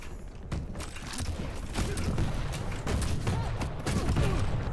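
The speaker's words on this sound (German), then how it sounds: "Ich schieße doch ihr vor die Füße." Gunfire in the video game Quake Champions: rapid repeated shots and thumping impacts in dense bursts, steady and fairly loud for the whole stretch.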